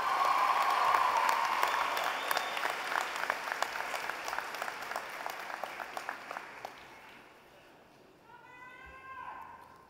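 Graduation crowd at a college commencement gives a sustained round of applause, loud dense clapping that thins out and fades over several seconds, followed by a faint voice.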